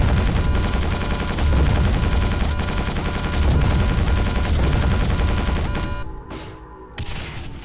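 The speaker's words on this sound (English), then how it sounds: "He's still shooting at them." Loud, rapid gunfire from the video game Quake 4 hammers almost continuously for about six seconds, then thins to a few scattered shots as the battle noise drops away.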